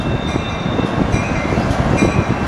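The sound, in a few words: freight train passing through a train yard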